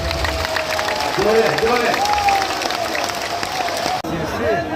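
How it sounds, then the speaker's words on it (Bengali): A crowd at a political rally breaks into loud sustained clapping and cheering, dense and continuous, while a voice carries on talking over the noise through most of it. "একটা জোরে তালি দেন তালি দেন"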